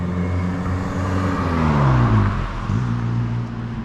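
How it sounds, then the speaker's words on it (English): Loud road traffic outside, cars rumbling past with a steady engine drone and a falling pitch sweep as one vehicle goes by, continuous and fairly close. "fucking cars are loud."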